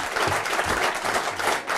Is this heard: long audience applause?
yes